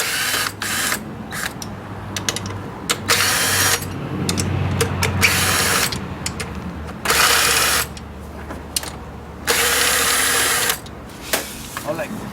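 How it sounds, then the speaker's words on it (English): A power drill backs screws out of the CVT clutch cover on a GY6 150cc scooter, with repeated loud whirring bursts of a few seconds each, separated by shorter clicks and handling noise. "With the driller, you can remove all the screws, okay?"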